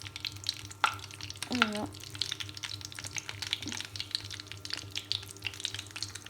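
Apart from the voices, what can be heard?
chicken brick pastries frying in hot oil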